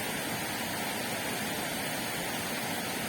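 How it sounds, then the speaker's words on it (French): A steady, dense rush of falling water fills the space evenly, like a waterfall heard close by, with no other sounds. "L'eau de cette cascade, qui te fait profondément du bien."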